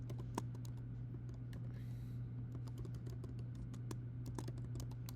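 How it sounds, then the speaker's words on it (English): Steady typing on a computer keyboard, with quick light key clicks tapping throughout over a constant low electrical hum, close and quiet. "So we're going to type"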